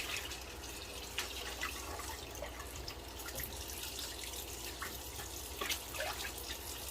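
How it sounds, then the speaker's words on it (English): Cold water running from a kitchen tap, a steady rushing stream with faint splashes and drips, continuous and fairly quiet. "Some cold water, of course."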